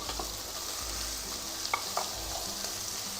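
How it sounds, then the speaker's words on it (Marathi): Finely chopped fenugreek leaves sauté in hot oil with browned onion, giving a soft, continuous sizzle and a few light stirring scrapes and clicks, heard close up with no talk. "मेथी चांगली तेलामध्ये परतून घ्यायची।"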